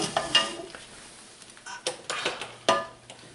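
Chopped onions sizzle softly in a pan, for a pot of Texas red chili, with a spoon stirring and scraping the metal in a few clear, sharp knocks between quiet frying sounds.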